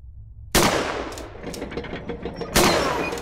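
Two sharp, loud gunshots from a gun in the horror game Horror Tales: The Wine ring out about two seconds apart. Each blast has a sudden attack and a ringing decay, with a few fainter pops and clatter in between.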